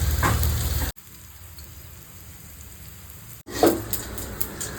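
Mustard seeds spluttering in hot oil for a bitter gourd fry, giving a dense close crackle and sizzle that cuts out abruptly for a quieter stretch and then returns just as busy.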